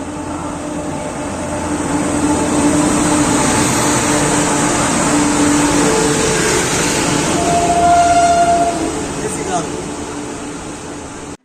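Amrit Bharat Express 13434, on its inaugural Malda Town to Bangalore run, makes a steady, loud rolling rumble throughout, swelling slightly mid-way, with muffled voices in the background.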